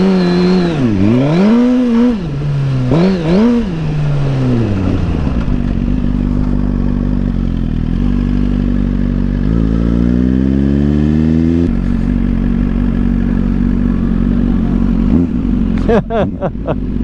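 A Suzuki GSX-R motorcycle on a race circuit roars loud and close through a run of revs, upshifts and gear changes, with steady engine drone and wind noise throughout.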